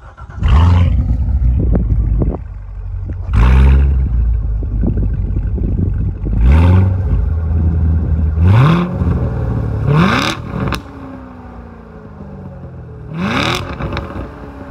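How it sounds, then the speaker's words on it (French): A Corvette C7 Stingray's powerful V8 engine revs hard in repeated sharp bursts, each rising roar falling back to a deep rumbling idle between blips, loud and close. "Là, on va écouter le son du moteur."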